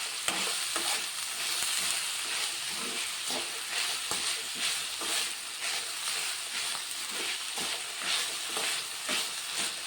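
Fenugreek-flavoured Indian broad bean curry stirred and frying in a pan, with a steady loud sizzle and hiss broken by repeated scraping strokes of the spoon.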